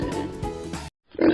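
Pig oinks and grunts in a short burst, close and fairly loud, breaking off into a moment of silence before another grunt returns.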